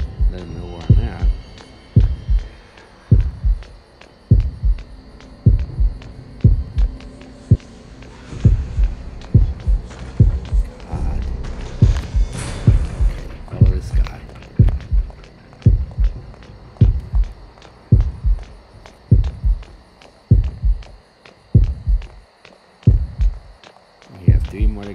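Heartbeat effect in the horror video game Horrorfield, a loud, low double-thump pulsing steadily for the whole stretch over a faint hum, strong and close.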